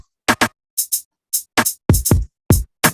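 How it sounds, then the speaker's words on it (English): GrooveCell, a 16-channel sample-based drum machine in Pro Tools, fires a sparse pattern of punchy drum hits played from a keyboard, with kicks and snappy sounds in irregular short bursts, no talking. "So it's a 16-channel sample-based drum machine."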